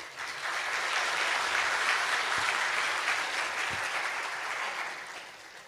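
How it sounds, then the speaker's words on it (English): A crowd applauds steadily for several seconds at an honorary doctorate ceremony, a dense wash of clapping that rises quickly and slowly tapers off. "Please give him a big round of applause."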